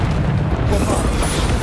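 A Bombarda spell explodes in the video game Hogwarts Legacy, a loud, close, deep boom with a rumbling burst that fills the short moment, with a voice heard alongside.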